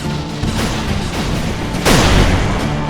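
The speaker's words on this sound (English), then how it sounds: "Ow, ow, explosions." Explosions in the TerraTech vehicle-combat video game, booming blasts that come one after another and end in a louder, deeper crash near the end, all under steady game noise.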